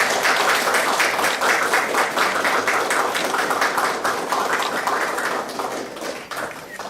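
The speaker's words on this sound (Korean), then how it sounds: "박수 한번 치시죠." An audience at a policy forum on blockchain, AI and big data applauds, a dense, steady burst of many hands clapping that carries on loudly for several seconds before thinning slightly toward the end.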